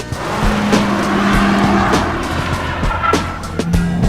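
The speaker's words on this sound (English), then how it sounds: "I'm going to do a foot-to-the-floor panic stop with ABS" A car makes a foot-to-the-floor ABS panic stop, its tires squealing loudly in short pulsing bursts over steady road and engine noise, with sharp transient thumps as the brakes modulate.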